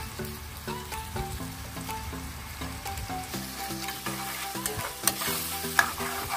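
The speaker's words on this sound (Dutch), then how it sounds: "Bakken, bakken, bakken, bakken." Dried shrimp and sambal ingredients sizzle and crackle in a hot pan while a utensil stirs and scrapes, continuous and close, with no talking.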